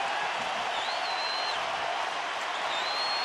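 A baseball stadium crowd in the eighth inning of a scoreless game urges on pitcher Clayton Kershaw, a steady wash of distant cheering and applause filling the air with no break.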